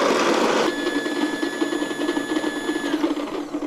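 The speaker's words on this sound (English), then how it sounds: "What's nice about this grinder is that there's enough vibration happening up here" A coffee grinder grinds beans for a Chemex: a short loud burst of crunching gives way to a steady motor whir with a thin whine, close and with no talk.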